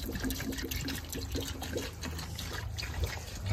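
Water trickles and splashes as it is poured into the radiator of an overheated Nissan Sentra, a close, continuous pour with small irregular gurgles.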